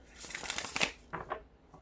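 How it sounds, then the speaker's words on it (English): Tarot cards being shuffled by hand, a brief close riffle of papery flutters followed by a couple of soft slaps, faint and quick with no talking. "just give me one more shuffle, Spirit, and I believe the message will be there."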